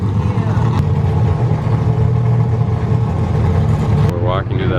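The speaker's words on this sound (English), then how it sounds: "The cars are really loud" Loud drift cars revving at Formula Drift Long Beach 2019: a dense, steady engine roar fills the whole stretch with nearby voices talking over it.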